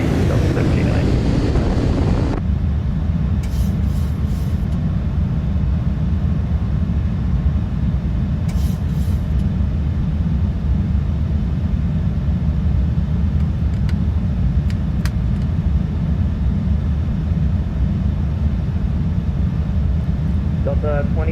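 A PMDG 737-800 airliner in Microsoft Flight Simulator 2024 takes off from Baltimore's runway 15 right. A steady, loud, low engine roar runs throughout, with voices near the start.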